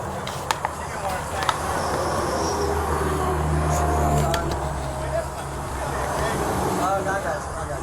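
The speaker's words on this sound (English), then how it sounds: "With that window down, all I can hear is the trucks." Trucks roll past on a highway beside a car with its window down, a steady loud engine and road roar running through the whole stretch with a few sharp knocks, and no one talking.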